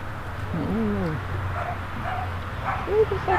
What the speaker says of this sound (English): What the fuck are you barking at?